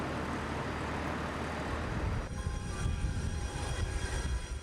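Lockheed C-5 Galaxy transport aircraft rumbles in a broad, steady engine roar, its turbine whine sharpening partway through as the noise grows rougher and closer.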